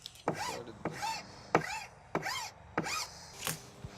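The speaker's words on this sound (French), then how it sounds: "C'est sûr que la finition avec la lime est importante." A hand file rasps over a wood or plastic surface as a finish is smoothed, in about six distinct strokes with brief pauses between them, close and moderately loud with no talking.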